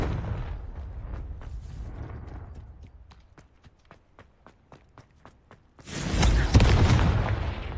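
Confringo fire spell from Hogwarts Legacy, a steady run of light rhythmic taps giving way to a loud, roaring blast that swells and rumbles for the final two seconds.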